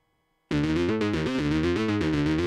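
A sustained, heavily processed modular synth tone, its size and density modulated, starts abruptly after a half-second of silence, its harmonics pulsing and shifting in a steady rhythmic modulation.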